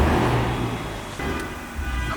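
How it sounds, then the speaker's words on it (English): Road traffic at a Tokyo drift car meet, a steady wash of car engine and tyre noise with a slight swell near the end and no speech. "It's a lot of traffic in here."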